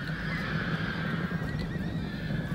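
Horses neigh and whinny loudly and continuously as cavalry charges in the strategy game Barbarian Invasion, set over a dense rumble of hooves and battle noise.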